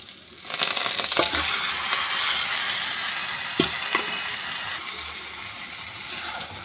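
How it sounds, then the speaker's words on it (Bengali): Goat meat tossed into fried onions in a hot pan sets off a loud, steady hiss of sizzling, with a few clinks and stirring scrapes along the way. "দেখুন পেঁয়াজটা ভাজা হয়েছে এরপরে মাংসটা দিয়ে দিচ্ছি"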